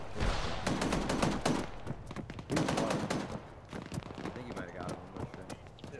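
Rapid bursts of gunfire from a military video game battle, loud and dense volleys repeating across the clip, with radio-style voices talking over the shooting.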